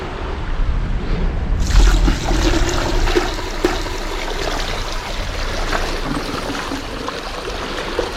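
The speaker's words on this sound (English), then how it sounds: "So you can see we're getting a nice flow of water." Water flowing through a gold washplant that runs without a pump, a steady close rushing and trickling flow that swells slightly near the start and then holds even throughout.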